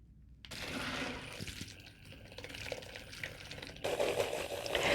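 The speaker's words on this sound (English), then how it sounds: "Then we're going to dip this into the water. And then we're going to dunk it a couple times" A makeup brush dunked a couple of times into water, soft sloshing and swirling splashes that rise and fall, fairly quiet with a brief louder burst of churning near the end.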